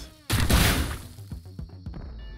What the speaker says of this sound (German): Das hat auch wieder mal echt viel Schüsse, ey.